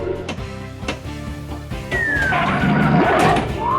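Cartoonish dog barks and whimpers from Lockjaw in the Pinball FX Marvel video game, loud and close. A burst of electronic pinball effects with a swooping tone takes over partway through.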